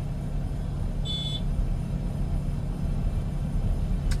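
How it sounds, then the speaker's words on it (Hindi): A car engine idles in neutral while stopped in night-time traffic, a steady low rumble holding throughout with one brief high tone partway through. "अब गाड़ी स्टॉप है, मैंने यहाँ पे न्यूट्रल कर दिया इसको प्रॉपर तरीके से,"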